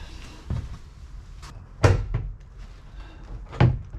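Kitchen cupboard doors in a DIY camper van conversion open and shut, giving three or four close wooden thunks and clacks at uneven intervals, the loudest a firm closing bang, with quiet handling noise between them.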